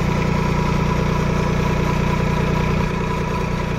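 A Swaraj Target 630 tractor runs steadily, its PTO shaft turning a 5 HP motor generator with a 12.5 kW armature, giving a close, even engine drone with a pulsing low throb that eases slightly near the end.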